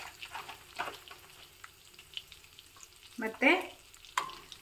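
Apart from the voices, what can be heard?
dry red chilli sizzling in tempering oil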